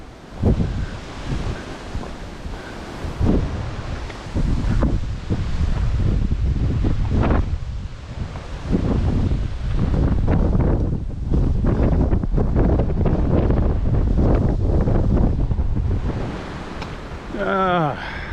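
Strong wind roars and buffets the microphone along the Bass Coast near the Powlett River, a loud, continuous blustery rush with gusts rising and falling, and someone speaks intermittently beneath it.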